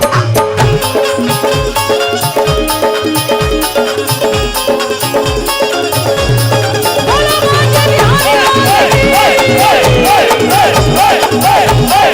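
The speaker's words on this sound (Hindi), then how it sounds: "दोनों हाथ उठे आप सभी के और ये तालियां बजे एक साथ" Audience at a devotional Shri Shyam kirtan claps together in steady rhythm along with loud, dense devotional music, the claps blending into the instruments throughout.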